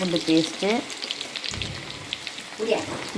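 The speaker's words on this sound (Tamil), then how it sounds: "இப்போ தாளிப்புக்கு கொஞ்சம் வெங்காயம் சேர்த்துக்கிறேன்" Sliced onions sizzle steadily in hot oil with fennel, cinnamon and cardamom for a chicken dish, a soft crackling hiss running throughout, with brief voice-like tones near the start and end.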